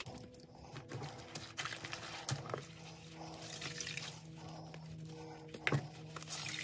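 Soft splashing and dripping as a cloth pad used to clean a motorcycle helmet with baby shampoo is swished, rinsed and wrung out in water, close and quiet, with small sloshes throughout.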